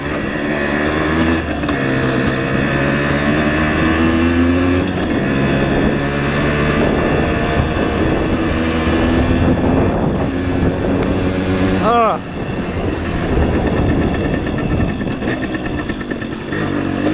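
1975 Suzuki RV-90 motorcycle engine revving and pulling on the move, a loud buzzy two-stroke drone rising and falling through gears, with a person talking over it at times.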